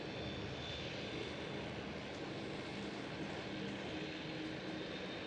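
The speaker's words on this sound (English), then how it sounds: "There goes KLM" A KLM Boeing 737 jet at Schiphol Airport in Amsterdam, its engines producing a steady, broad roar that holds level throughout, moderately distant with no voices over it.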